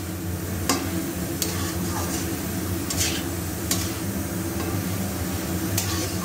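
Banana flower curry fries in a pan, a steady close sizzle running throughout, with a spoon stirring and giving several sharp scraping clicks against the metal at irregular intervals.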